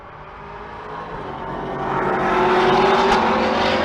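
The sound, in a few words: drag race cars driving down the strip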